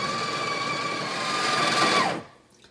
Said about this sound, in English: It's grinding your coffee for you.